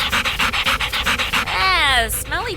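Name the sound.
dog panting, husky sled dog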